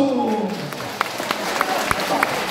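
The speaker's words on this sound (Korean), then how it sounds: "박수!" Scattered claps from a lecture audience follow a voice briefly speaking at the start. The sharp hand claps are sparse and moderately loud over a low murmur.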